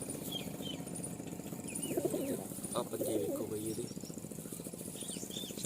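Pigeons, including a Chinese breed kept by an old village pigeon fancier, give low rolling coos mid-clip over a constant hissy outdoor background with faint chirps.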